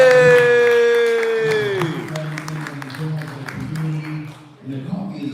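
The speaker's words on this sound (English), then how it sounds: "Clap it up for him one more time" A comedy crowd in a coffee shop applauds and cheers with a few whoops, clapping steady over several seconds while a voice speaks loudly over the start and more talk follows underneath.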